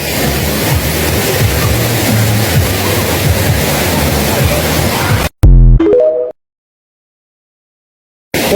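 Wang Kan Lueang waterfall in Lopburi, Thailand, gives a loud, steady, broadband roar of rushing water for about five seconds, then cuts off abruptly, followed by a brief tonal sound and silence.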